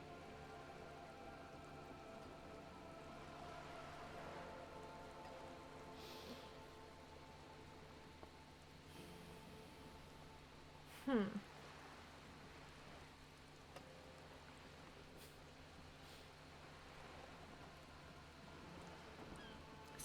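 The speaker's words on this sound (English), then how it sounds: "The rain is freezing." Quiet, steady rain ambience from the video game Disco Elysium, a soft continuous patter with faint scattered drips and one brief louder tap in the middle, no voices.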